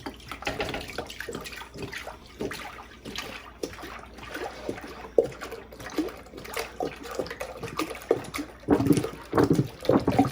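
Whole milk poured into a cooking pot for rice and carrot kheer, a close, uneven liquid splashing and trickling that swells and surges toward the end, with no talk.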